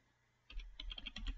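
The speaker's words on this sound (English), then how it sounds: "This is done by typing in the HTTP name" A brief run of quick, light keystrokes on a computer keyboard, close and fairly quiet, typing a web address into a browser to reach a smart camera's software.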